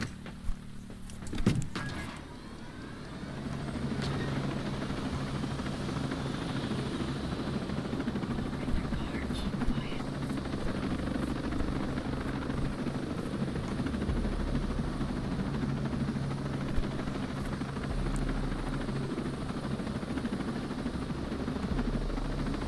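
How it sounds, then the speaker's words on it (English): A helicopter in Ghost Recon Breakpoint runs steadily for the whole stretch, its rotors and engine making a constant, loud, dense drone. A brief thump comes near the start and no one speaks. "We need to grab that helicopter now."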